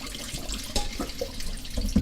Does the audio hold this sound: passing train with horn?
no